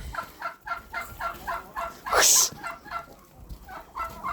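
Several chickens cluck in a steady rhythmic chorus nearby, with one louder squawk in the middle.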